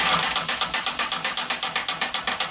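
Wind noise from a 2005 Toyota Sienna roof antenna missing its rubber part, heard as a rapid series of rhythmic whooshing, ratchet-like pulses, about seven per second, loud and steady with no talking.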